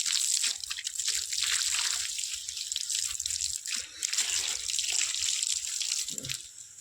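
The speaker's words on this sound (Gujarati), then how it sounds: "પાણી ચાલુ કરી દીધું છે." Water gushes and sprays steadily from a burst hose pipe, a hissing rush like a hose running full, with small splashes and shifts in intensity.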